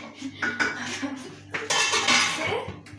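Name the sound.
serving cooked chicken macaroni out of the pan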